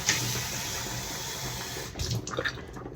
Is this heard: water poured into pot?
yes